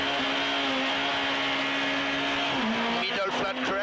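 A Mitsubishi rally car on a stage of the 2011 Japan Rally holds a loud, sustained engine note that drops in pitch near the end, followed by rattling gravel and tire noise, with commentary over it.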